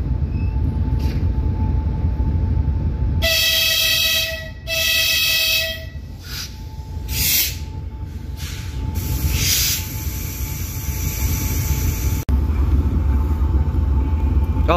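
A Tulpar-Talgo passenger train passes with a low, steady rumble and hiss, joined by sustained horn-like tones and brief bright metallic bursts that rise and fade.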